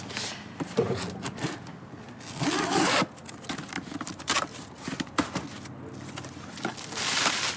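A delivered package holding a video game console is unwrapped up close. Bursts of rustling, scraping and tearing packaging are heard, with a long loud rip near the middle.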